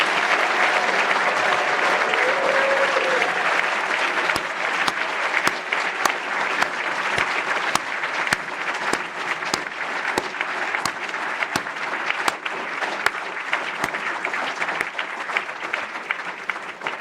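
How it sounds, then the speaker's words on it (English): A ceremony audience gives sustained, even applause for newly inducted members of the Class of 2022, a broad wash of many hands clapping that continues for the whole stretch, steady and moderately loud with no talk over it. "what about round of applause for all the members?"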